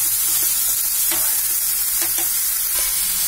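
Chopped onion fries in hot oil in a pan for kaara poli, a loud, steady close sizzle broken by occasional soft stirring scrapes, with no talk.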